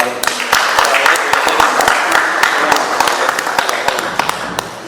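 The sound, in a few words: audience applause for a birthday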